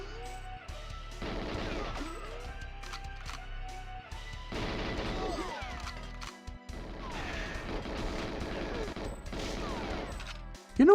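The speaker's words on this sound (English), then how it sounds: "All this gunfire" Rapid bursts of Nintendo 64 video game gunfire crackle and pop in uneven volleys with sharp impacts, a busy, continuous firefight with no voices.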